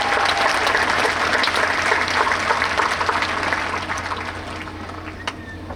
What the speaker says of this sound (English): How about one more round of applause for that?